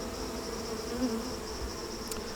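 Soft, steady buzzing of many young honeybees close by inside a hive, a continuous low hum with no talking.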